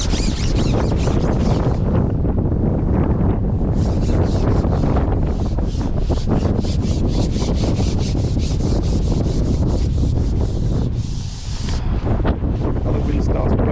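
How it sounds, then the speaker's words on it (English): Strong gale-force wind batters the microphone at a lakeside fishing match, a continuous loud rumbling roar with gusty buffeting and no letup. "the wind starts blowing a gale"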